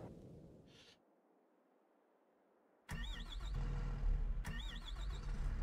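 A large excavator engine in Farming Simulator 22 cranks and catches, settling into a loud, steady diesel rumble with a brief dip and surge partway through, after a quiet lull.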